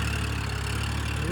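Kubota L4028 tractor engine running on a farm, a steady close low drone at idle with a faint rise in pitch near the end as the throttle is pressed, no talk.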